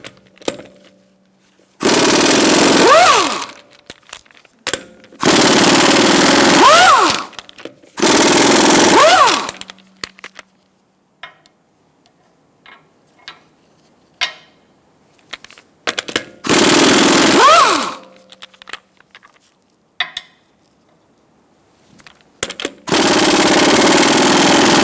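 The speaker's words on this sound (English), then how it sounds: "Using a 19mm socket, we're going to remove our wheel." An impact wrench with a 19 mm socket hammers off the wheel lug nuts of a 2012-2018 Ford Focus, firing in about six loud, rattling bursts of a second or two, each separated by near silence.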